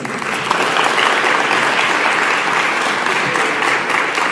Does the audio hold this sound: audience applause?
yes